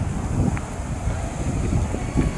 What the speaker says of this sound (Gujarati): પવન તો એવો સરસ આવી રહ્યો છે.